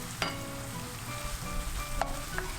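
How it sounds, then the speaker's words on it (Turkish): Meat sautéing in a pan for a Turkish pide topping, giving a soft, steady sizzle with a few light scrapes and clinks of a utensil stirring, quiet and close, with no talk. "continue to saute until it changes its color"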